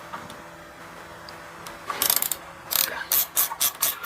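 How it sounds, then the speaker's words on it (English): A ratchet wrench with an extension and 10mm socket clicks as it works a radiator bolt loose on a 2003 Suzuki SV650 motorcycle, first with faint taps, then several bursts of quick, close ratcheting. "let's use this wrench with the extension and the 10mm socket"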